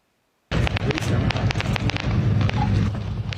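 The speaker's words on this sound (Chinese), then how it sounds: "火光四射烟火冲向天顶" Fireworks set off at the Wuling parking lot on Hehuan Mountain, inside Taroko National Park, burst in a rapid, loud barrage of crackles and bangs that begins abruptly and carries on without a break.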